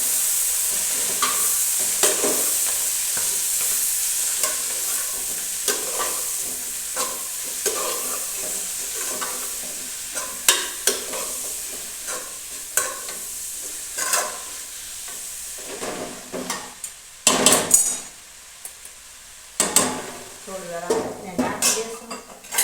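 Metal spoon stirring fenugreek greens (methi) curry with asafoetida in a pan, steady scraping and soft sizzle with irregular clinks of utensil against the pan, growing sharper and more frequent toward the end.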